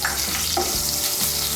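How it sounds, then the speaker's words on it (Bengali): Nigella seeds and a green chili sizzle steadily in hot oil in a pan for a hilsa and eggplant curry, a loud, close, continuous crackle with a light stir. "এর মধ্যে আমি 1/2 ছোট চামচ কালো জিরে দিচ্ছি আর একটা কাঁচা লঙ্কা ফোড়ন দিচ্ছি"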